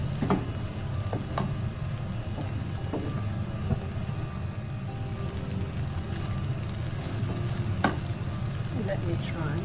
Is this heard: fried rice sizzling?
yes